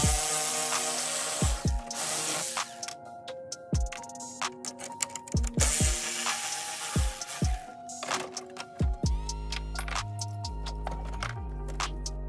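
A power tool, likely a drill driver, backs out the T30 and 10 mm screws holding a Can-Am Renegade ATV's taillights, giving several short whirring bursts with clicks and clatter of parts between them, close and fairly loud.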